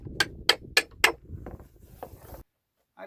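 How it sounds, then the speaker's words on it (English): Four sharp, evenly spaced hammer taps on wooden wedges tightening a homemade wood clamp, close and crisp, followed by a few softer knocks and then silence. "Tap them tight with a hammer."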